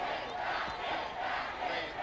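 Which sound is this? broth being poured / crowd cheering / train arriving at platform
crowd cheering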